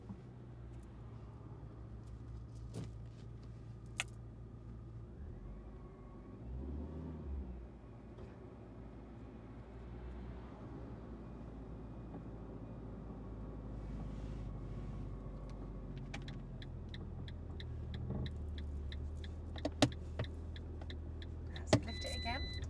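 A learner driver's car pulls away from a stop, its engine giving a low, steady drone that swells as it revs up, with faint clicks and a brief burst of wind noise.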